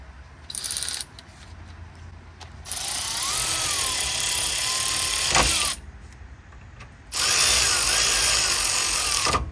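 An impact or power tool whirs in two long loud bursts with a short blip before them, torquing a rear brake bolt to 65 on a 2012-2020 Toyota 4Runner during a pad and rotor job; close, no talk.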